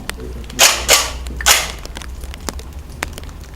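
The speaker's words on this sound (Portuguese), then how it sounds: "os combatentes vão para o estande, onde é realizado o chamado tiro de instrução avançado" Soldiers fire weapons on a shooting range during advanced training, with three sharp, loud shots close together followed by a few fainter distant cracks.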